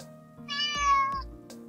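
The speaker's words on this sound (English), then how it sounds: "It's a cat." A single cat meow played as a sound effect, a clear, close, drawn-out call with a short follow-up sound, no voices over it.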